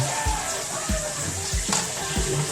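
A little water is poured into a pot of snails simmering in coconut milk for Waray-style ginataang suso, a steady splashing trickle with soft periodic knocks underneath.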